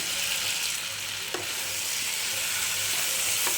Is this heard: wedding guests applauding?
no